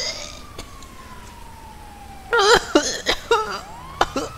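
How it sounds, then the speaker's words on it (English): Emergency vehicle sirens in GTA roleplay, a faint wailing tone sliding in the background while a person coughs and speaks over it up close. "Okay, I hear sirens."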